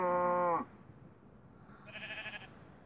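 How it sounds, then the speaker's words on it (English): A farm animal in a survival video game lets out one loud, drawn-out bleating call, followed by fainter animal calls a moment later over a low background rumble. "you can probably hear the animals, mooing outside"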